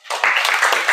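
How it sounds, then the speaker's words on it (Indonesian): Students in a classroom applaud the groups who presented: dense, steady clapping from many hands, close and fairly loud, lasting the whole short moment. "Kasih aplaus untuk semua kelompok."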